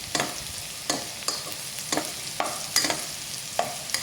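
Garlic sizzling in a pan for a Kapampangan dish, a steady broadband fry with spatula stirs scraping at regular intervals, fairly quiet and close, no talking.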